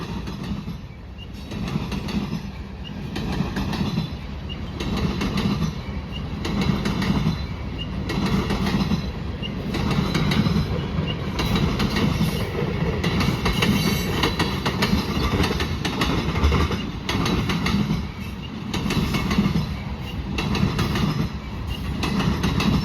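CN freight locomotives 2655 and 2312 roll through Marinette, Wisconsin, followed by a long train of railcars. Wheels clatter and clack rhythmically on the rails at moderate volume, with occasional faint squeals.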